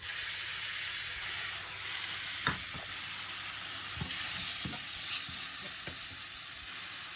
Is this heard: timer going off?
no